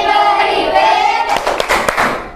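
Schoolchildren in a primary classroom break into a rhythmic group clap after a short stretch of voices, the claps landing as several sharp, loud bursts in a patterned beat.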